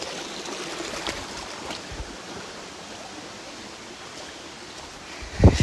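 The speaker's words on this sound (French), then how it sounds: "Je vous laisse apprécier le petit bruit de la cascade à côté de laquelle je passe" A small waterfall gurgles and rushes steadily nearby as someone walks past it, a constant water hiss with faint rustles and a louder knock at the very end.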